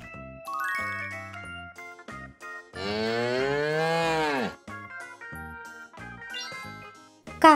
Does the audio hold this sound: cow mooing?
yes